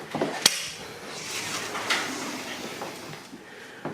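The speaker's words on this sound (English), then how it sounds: "Can you open the door?" A door opens at a holiday villa in Thailand, with a sharp latch click near the start, then softer knocks and rustling over a low room hum.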